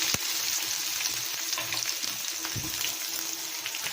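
Dried red chillies, curry leaves and garlic sizzle in hot oil with mustard seeds, a steady close crackling hiss with a few sharper pops.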